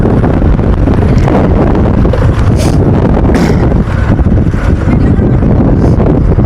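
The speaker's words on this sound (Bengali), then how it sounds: "ভাই এত জোরে বাতাস বইলে হয় কি আর।" Strong wind buffets the microphone during a highway motorcycle ride, a loud, continuous broadband roar that fills the whole clip with no break, turbulent and steady.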